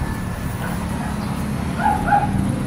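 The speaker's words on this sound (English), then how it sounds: "these dogs are really going" Several dogs bark and yip in the distance in San Carlos City, Philippines. A couple of short, faint barks rise briefly over a steady outdoor background rumble.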